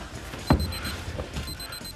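A pager beeps in short, evenly spaced tones, high and thin, over a low background rumble with a brief thump.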